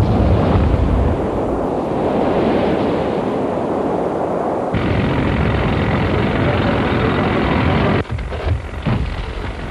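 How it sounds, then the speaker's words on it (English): A deep, sustained roaring rumble from a rock blasting explosion at a dam site, like a distant blast echoing, with a sudden shift midway and a brief drop near the end. "triggered a blast far smaller than the atomic explosions now nearly so"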